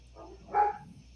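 A single dog bark, short and moderately loud, preceded by a softer yip-like sound in an otherwise quiet room.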